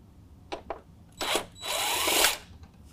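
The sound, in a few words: 8 mm socket loosening a truck grille bolt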